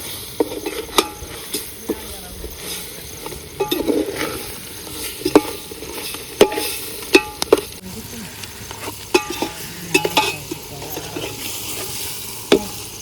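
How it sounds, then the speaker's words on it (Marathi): Fish sautéing in a thick masala gravy in a pan: a steady sizzle with frequent sharp clicks and scrapes from a spatula turning the pieces, fairly loud and close, with no talking. "मसाल्याच्या ग्रेव्हीत चांगलं परतायचं चाललं ते मासा आपलं."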